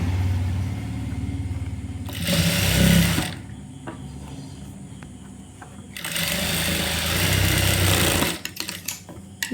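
Sewing machine stitching a blouse runs in two sustained bursts, each a few seconds long, separated by quieter handling sounds of fabric and the machine at rest.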